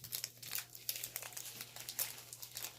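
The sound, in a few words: crinkling of opening Pokemon card booster pack wrappers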